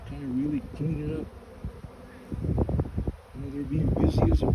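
Honey bees buzzing steadily at an open hive during an inspection, a close, continuous drone with a person talking over parts of it.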